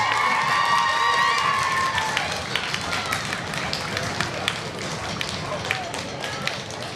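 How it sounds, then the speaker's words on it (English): Audience at a school band and orchestra concert claps and cheers in dense, steady applause that gradually thins, with a voice briefly calling out early on. "Boys and girls, give your parents and family members a big round of applause"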